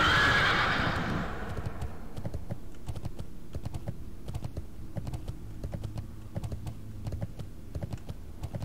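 A horse whinnies loudly at the start in World of Warcraft: Wrath of the Lich King Classic, its call fading over a couple of seconds, followed by a steady run of soft clicks and taps underneath.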